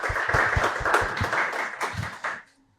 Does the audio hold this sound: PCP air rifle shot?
no